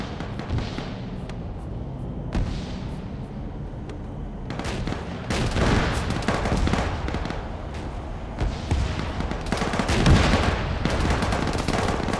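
Video game firefight with rapid gunfire, launcher blasts and distant artillery-like booms, loud and dense bursts from about five seconds on after a quieter opening, continuous crackling shots throughout.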